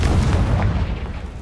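Confringo explosive spell blast in a video game, a loud, dense rumbling boom that fills the whole moment with heavy low-end roar and sustained crackling debris, close and powerful throughout.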